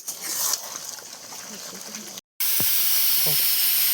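Curry sizzling and hissing steadily in a pan as it is stirred a little after the gas is turned off, a close, continuous hiss broken by a short gap.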